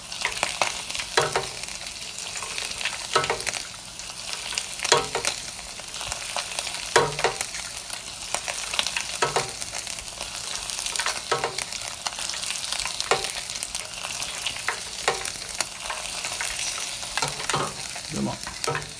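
Tilefish (amadai) deep-fries in hot oil with scales on, giving a continuous close sizzle broken by regular bursts of crackling every second or so, with no voices.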